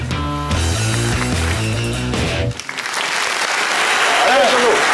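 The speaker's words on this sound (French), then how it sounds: "merci de l'applaudir bien fort" Studio audience applause for a guest on a French midday show, starting after a burst of music and continuing as a steady dense patter with a faint voice near the end.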